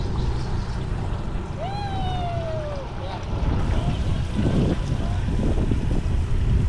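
Boat motoring through water at about 15 knots, with steady engine rumble, rushing water and wind buffeting the microphone, and a brief whistle-like tone partway through.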